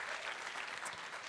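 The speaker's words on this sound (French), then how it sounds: "Est-ce que vous pouvez l'applaudir?" Audience applause at a French conference on succeeding online in 2024, a short steady burst of many hands clapping that fills the room evenly from start to finish.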